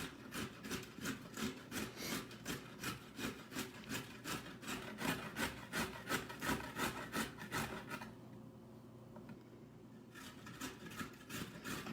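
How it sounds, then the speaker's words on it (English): A carrot rubbed down the biggest holes of a box grater in fast, steady rasping strokes, close and fairly loud, with a short pause near the end before the scraping resumes. "she's gonna grate the other one on the biggest grate"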